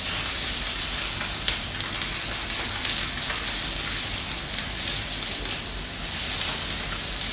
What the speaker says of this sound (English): I'm just letting it roast on the skin side only